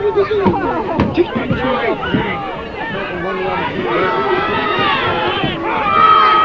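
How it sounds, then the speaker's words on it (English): A crowd murmurs and chatters at a boys' regional soccer game, a busy babble of many voices with scattered shouts and close talk running through it. "Crowd getting bigger"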